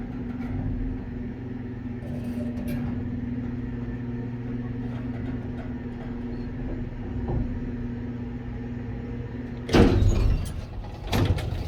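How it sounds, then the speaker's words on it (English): An antique Otis elevator door at Portland's Union Station slides shut on its own with a steady mechanical rumble and hum, ending in a louder clunk and rattle near the close. "This door automatically doesn't slam."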